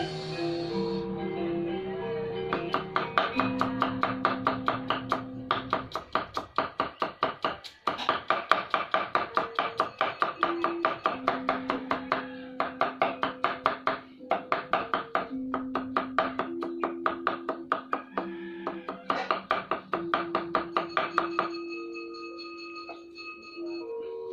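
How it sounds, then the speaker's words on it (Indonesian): A knife chops kencur, aromatic ginger, on a cutting board for Balinese spice paste in rapid, steady knocks lasting over twenty seconds, close and clear beneath soft background music. "Kencurnya sekarang kita cincang guys."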